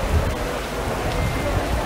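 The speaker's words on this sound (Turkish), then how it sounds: "yağmur." Caribbean rain pours steadily as a dense, even hiss of drops striking surfaces, heard close and fairly loud throughout.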